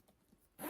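A zipper on a deep, thrifted zip-around purse is pulled briefly, a quick faint rasp after near-silence, close and alone.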